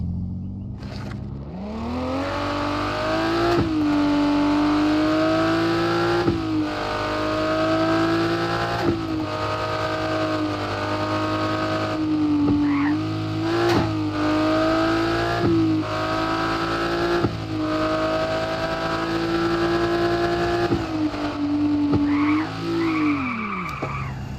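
Car engine in Car For Sale Simulator 2023 mobile revs hard and steadily while the car drifts, a loud, sustained whine that climbs and dips with throttle, broken by a few short tire squeals.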